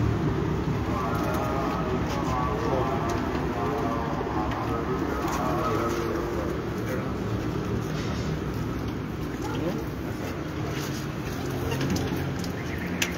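Pigeons coo steadily on a new rooftop loft in Dhanat Pura, Sheikhupura district, their soft repeated calls close by and nearly continuous, set against a dense, constant background hiss.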